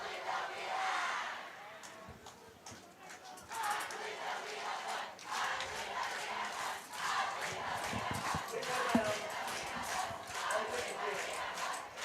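Far-off cheering and shouting from the stands at a Campus vs Salina South football game rises and falls in waves, with an announcer's voice talking over the crowd.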